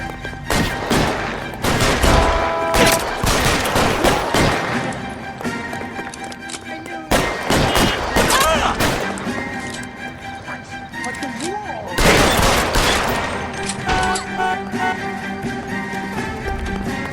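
Gunfire in the video game L.A. Noire: several loud bursts of shots crackle through a busy game mix of music and voices, with heavy volleys clustered near the start, middle and around twelve seconds.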